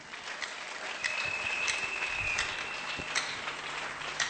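A church congregation applauds during a French-language sermon, steady dense clapping that stays level throughout at moderate volume.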